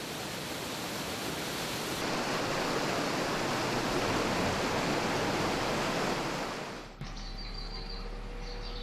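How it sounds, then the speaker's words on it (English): Running water of a waterfall near Ningguo, China pours in a steady, dense roar, loud and constant, shifting briefly near the end as the scene changes. "there's something particularly soothing about the sound of running water."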